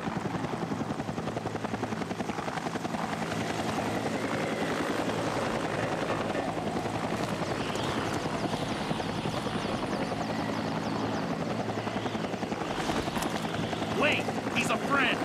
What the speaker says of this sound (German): Und jetzt auf einmal ist der Helikopter sofort.